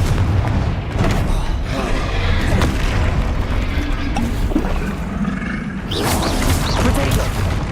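A Confringo explosion spell from a wizarding video game goes off in repeated booming blasts with roaring, rumbling bursts that fill the whole stretch, loud and dense, with a fresh burst near the end.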